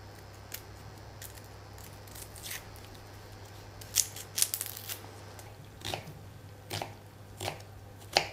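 A knife finely chopping a peeled shallot on a board for a champagne sauce, sparse crisp cuts and taps close by, irregular and quiet, with no talk.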